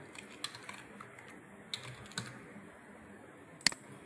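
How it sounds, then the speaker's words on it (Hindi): Someone types a password on a computer keyboard, with soft, scattered keystrokes over quiet room tone and one sharper tap near the end. "फिर हमने पासवर्ड टाइप किया और हमने कैप्चा डाला"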